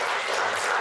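A conference audience applauds a speaker, a dense, steady wash of many hands clapping from start to finish.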